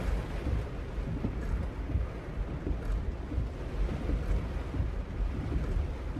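A heavy rainstorm roars as a steady, dense wash of loud noise with rumbling low gusts, continuous throughout with no talking.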